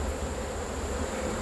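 Dense, steady buzzing of many honey bees at an open beehive during a hive inspection, close and continuous with no voices.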